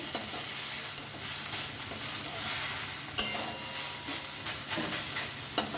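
A potato-pea stuffing with tomato sauce and kasundi is stirred in a pan, a soft continuous sizzle broken by scraping strokes and a sharp clack midway, close up with no voices.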